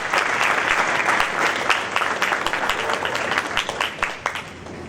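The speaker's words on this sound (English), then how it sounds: "Seniors, we need to give your parents a round of applause." Loud, dense applause from a breakfast crowd honoring seniors' parents at a high school athletic event, sustained throughout and gradually thinning toward the end.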